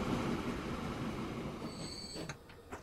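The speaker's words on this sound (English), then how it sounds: "We have train waiting here." A train in the rail-building game Transport Fever 2 rolls along with a steady rumbling roar, a thin high wheel squeal entering partway through and a few clicking rail knocks as the noise eases off near the end.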